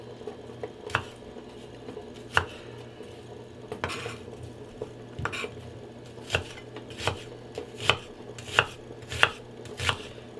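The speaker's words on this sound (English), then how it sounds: "So we're going to cut up our onion," Knife chopping an onion into small pieces on a board, a series of sharp, close clacks in an uneven rhythm that quickens toward the end, over a faint low kitchen hum.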